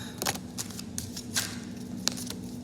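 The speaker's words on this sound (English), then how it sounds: "I'm just shuffling and let whatever cards are meant for you pop out." Tarot cards from an herbal deck are shuffled by hand in quick, faint papery riffles and soft slaps, irregular bursts close to the microphone over a quiet low hum.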